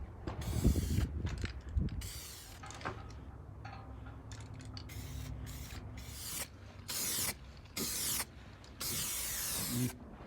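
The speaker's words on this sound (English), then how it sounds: "Okay, actuated it, we're shaking for another 2 minutes." An Eastwood 2K epoxy primer aerosol can is shaken near a Mercedes R107 wheel-arch repair. A quiet, irregular rattle and clatter comes first, then several harsh rhythmic bursts of shaking that stop and start.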